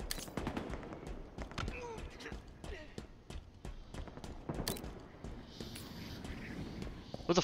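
Gunfire in the video game Halo Infinite during a tactical slayer match: rapid sharp shots in irregular bursts, fairly quiet overall, with faint talk in the background.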